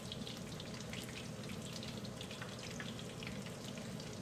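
Coconut shrimp frying in hot oil, a continuous close bubbling sizzle with fine crackles and pops, steady and fairly loud, with no voices.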